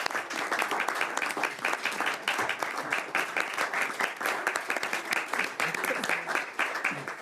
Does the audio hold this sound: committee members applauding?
yes